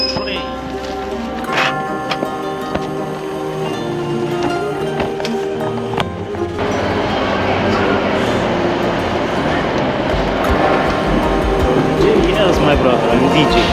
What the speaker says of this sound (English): Is that our train? Yes, it's our train.